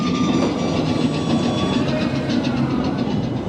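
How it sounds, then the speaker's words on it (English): Disneyland train rolling past close by, a loud continuous rumble with rhythmic rail clatter and a faint high squeal, steady throughout with no talking. "the train's going through. Another train coming through."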